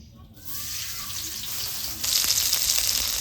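Onions dropped into hot oil in a pan while cooking traditional Bengali patol bhuna, starting silent then a steady sizzle that swells sharply about two seconds in, continuous and close.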